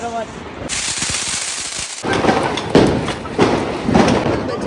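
A 12-shot firecracker goes off during a Diwali celebration, firing a series of loud, sharp bursts spaced about a second apart, each followed by crackling, with voices in the background.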